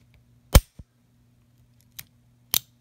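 A 2017 Colt Cobra revolver's trigger clicks as it resets, sharp dry metallic clicks heard close up: one strong click, a faint follow-up, then two more clicks, the last one doubled, against quiet background hum.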